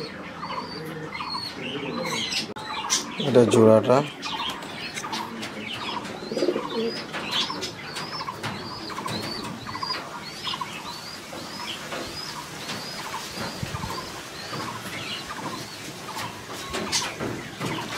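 Domestic pigeons kept at a house, including a hen, coo in low throaty bursts amid light chirps, close by, with someone speaking briefly at one point.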